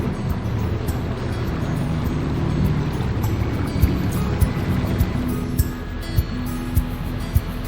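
Low engine rumble of a narrowboat passing nearby on the River Thames, with wind buffeting the microphone and a few soft knocks.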